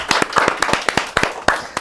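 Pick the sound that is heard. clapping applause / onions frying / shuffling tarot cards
clapping applause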